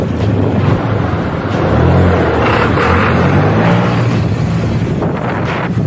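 A Honda Click scooter fitted with a JVT titanium CVT set accelerates, its engine a steady loud drone mixed with heavy wind rush against the microphone, with no talking.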